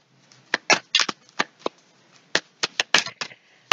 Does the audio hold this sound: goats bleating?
no